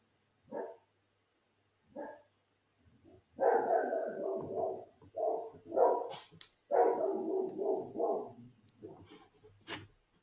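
A neighbour's dog barks outdoors, two short isolated barks followed by longer bursts of repeated, rough barking at moderate distance, with brief quiet gaps between the volleys.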